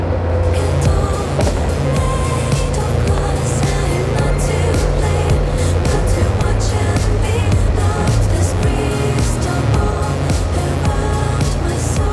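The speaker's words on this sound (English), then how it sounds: "so I'm just giving the gas and getting away." A Honda Transalp 750 motorcycle accelerates hard on a road in traffic, its engine a steady, loud drone with rising low harmonic tones that runs for the full twelve seconds with no talking.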